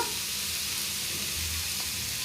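Broad bean pods stir-fried in a pan with salt give a continuous, even sizzling hiss, close and steady, with faint stirring scrapes underneath.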